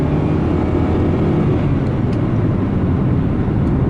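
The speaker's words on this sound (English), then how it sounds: "And you hear the engine again." A 2013 Nissan Rogue's four-cylinder engine runs at a steady, loud drone with a low rumbling tone, unbroken and with no talking over it.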